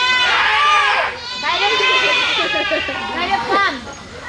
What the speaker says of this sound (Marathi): हे बघ बकरी बघ.